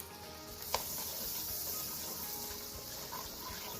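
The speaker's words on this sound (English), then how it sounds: "Another couple of tablespoons of butter right into this hot skillet." Butter frying in a hot skillet before onions go in, a steady, fairly quiet sizzle that holds level throughout, with one small tap early on.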